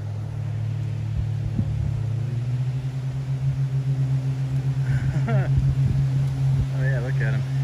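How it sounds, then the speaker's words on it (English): Jet skis and a motorboat run on the water below a hiking trail, a steady engine drone rumbling throughout with a rising, wavering whine near the end, all under wind and outdoor hum. "Oh yeah, there's some jet skis."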